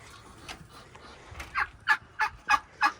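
A turkey on a farm gobbles in a series of about six rapid calls, faint at first and then growing louder and nearer.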